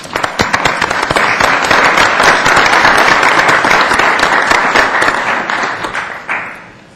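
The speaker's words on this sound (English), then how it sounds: "Please welcome them with a round of applause." An audience at an evening election forum applauds school board candidates with dense, sustained clapping that stays loud for several seconds and then tapers off.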